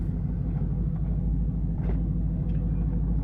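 Steady low rumble of a car driving with a dashcam recording, a continuous road and engine drone throughout with faint passing noises on top.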